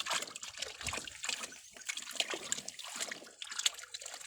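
Fresh turmeric roots being washed clean of soil in a basin of water: soft, close sloshing, trickling and small splashes come in uneven bursts, fairly quiet throughout.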